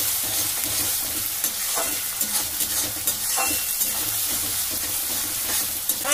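Ginger, garlic and green chili paste fries with onions in a hot pan, a loud continuous sizzle broken by repeated scraping strokes of a spoon stirring the mixture, close and without talk.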